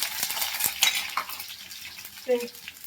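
Utensils scrape and clink in a pan over a soft sizzle of ginger frying after spices have popped, with a few sharp taps and faint pops.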